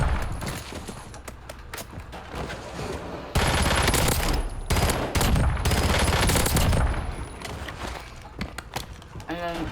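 Rapid automatic gunfire from a Peacekeeper weapon in a first-person shooter video game, dense bursts of shots between about 3 and 7 seconds, loud against quieter game ambience.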